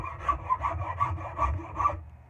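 A wooden racing axe handle is rasped smooth with a series of about seven rhythmic rubbing strokes, close and fairly loud, then stopping.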